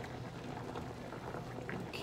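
Egg whites sizzling in a hot oiled pan, a steady close crackling hiss running throughout with faint spattering pops and no talk.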